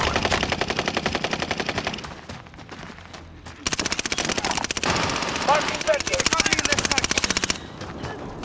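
Automatic gunfire from Call of Duty Warzone, loud, rapid bursts of machine-gun fire nearly continuous across the clip with a brief lull midway, then dense shooting again, with voices talking underneath.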